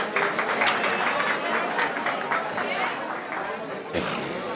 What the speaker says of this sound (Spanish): Que se siente el aplauso.